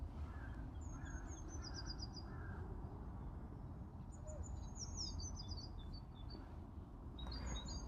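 Distant birds chirp and call in short repeated trills over a steady low outdoor rumble in West Norwood, London, faint and scattered across the background.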